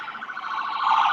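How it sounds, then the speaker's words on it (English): A small ambulance siren wails steadily and without a break, a continuous mid-pitched tone that grows slightly louder toward the end, heard alone with no voices. "It's a little ambulance."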